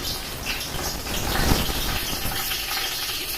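Cinnamon, cloves and cardamom, plus a little fennel, sizzling in hot oil for a country chicken dum biryani, a dense steady crackling hiss that swells slightly in the middle.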